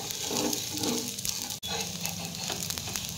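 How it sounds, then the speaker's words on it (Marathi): A fasting-day (upvas) dosa roasts on a pan over a medium gas flame, giving a steady, close sizzle and crackle that runs throughout, broken once by a brief dropout midway. "आता आपण डोस्याची एक बाजू व्यवस्थित शेकून घ्यायची"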